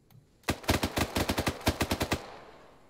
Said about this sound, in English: Now do a 50-round burst.